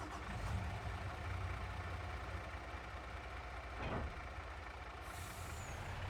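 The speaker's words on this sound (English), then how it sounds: "We're gonna get the bucket truck fired up and get it ready to go." A bucket truck's engine turns over and settles into a steady diesel idle inside Farming Simulator 22, with a brief air-brake hiss partway through, loud and close with no talking.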